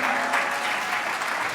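Steady applause from an audience at an MTN Rwandacell stock exchange listing ceremony in Rwanda, dense continuous clapping that fills the room without a break.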